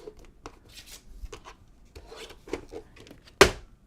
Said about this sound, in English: I use this to trim photos though.